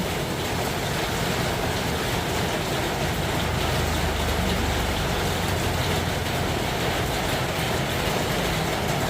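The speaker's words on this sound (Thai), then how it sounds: "ให้ดูบรรยากาศนะคะบรรยากาศฝนตก" Rain falling steadily outdoors in a rural Thai setting, an even broadband hiss that holds for the whole stretch, with a faint low hum partway through and no voices.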